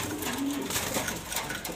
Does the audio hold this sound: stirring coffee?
no